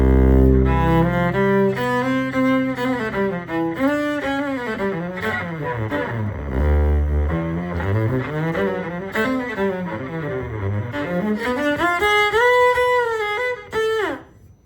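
An electric cello plugged by cable straight into a speaker plays a sustained, gliding melody, loud and close, with bright buzzy overtones and slow slides between notes, cutting off near the end.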